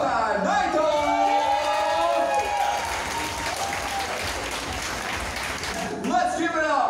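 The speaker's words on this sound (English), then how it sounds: "Big round of applause." Applause from a crowd at a P-pop gala night greets a host introduction, rising over a cheering voice at the start and continuing steadily throughout, with a shout and voices returning near the end.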